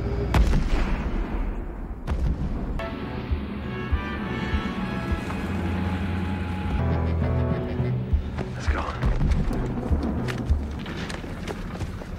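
German tanks fire and blast in a war film battle, heavy booms and deep rolling rumble filling the scene continuously, with sharp bursts standing out near the start and toward the end.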